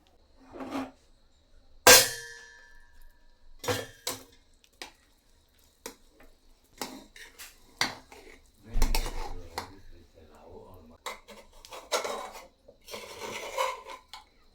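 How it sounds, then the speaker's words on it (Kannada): Cabbage pulao is tipped from a small pressure cooker into another vessel and stirred, giving scattered metallic clinks, scrapes and soft squishy rubbing, mostly close and irregular, with one sharp clank early on. "ಬೇರೆ ಪಾತ್ರೆಗೆ ಹಾಕ್ಕೊಂಡು ಮಿಕ್ಸ್ ಮಾಡ್ತೀನಿ ನಾನು"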